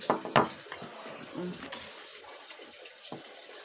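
Running water is collected from a tap, a soft splashing trickle with a few knocks and clinks of the container, faint and somewhat distant, with brief speech underneath.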